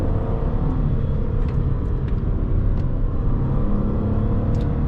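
A 2009 Hyundai Azera with a 3.3 V6 engine brakes on the engine through a curve. A steady low engine rumble and road noise are heard from inside the cabin, with faint ticks above, and no one speaks.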